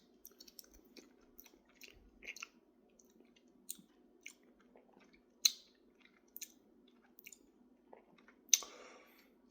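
Someone bites and chews a Taco Bell Caliente Cantina chicken burrito: soft close chewing and squishy bites with a few sharper crunches and clicks, in a quiet room.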